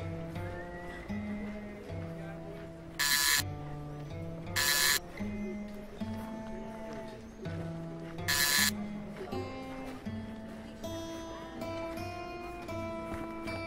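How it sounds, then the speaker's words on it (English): A harsh electronic buzzer in the Shardlight video game sounds three times in short bursts over a droning, melodic game soundtrack. "A buzzer."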